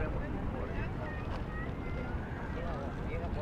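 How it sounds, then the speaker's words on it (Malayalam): Steady wind buffets the microphone with a low, continuous roar at night atop Twin Peaks, California, while faint voices and background activity sit underneath. "നല്ല കാറ്റും ഉണ്ട്"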